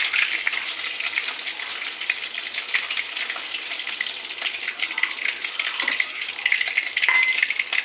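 White cumin seeds sizzle in hot oil for a Bengali tangra fish curry made with yogurt. The frying is a steady, close hiss with bright crackles throughout, and no one talks.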